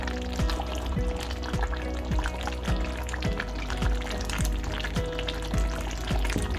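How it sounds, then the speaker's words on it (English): Mutton curry, a meat bhuna, frying in oil in a pan while being cooked and mixed, giving a busy, continuous sizzle with repeated scraping stirs at a close, steady level. "cook and mix it for a few minutes until the oil rises at the top"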